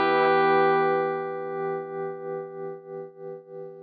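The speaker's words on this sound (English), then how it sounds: "Let's start with the tremolo." An electric guitar through the Neural DSP Archetype plugin rings out one strummed chord with tremolo, the sustained tone pulsing faster and deeper in regular throbs as it decays.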